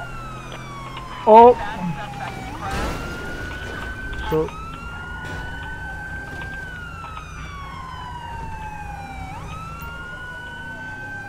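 A police siren in GTA V with the LSPDFR police mod, a wailing tone rising and falling steadily through the scene alongside engine and traffic noise, with a brief exclamation from a voice.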